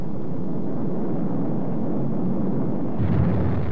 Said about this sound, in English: the result can be a violent, steam-driven eruption, such as this one in 1960